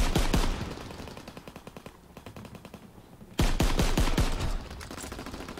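Rapid automatic gunfire from a World War II era Call of Duty WW2 shooter game, loud close bursts of rattling shots with short pauses, then a heavier volley, no talking.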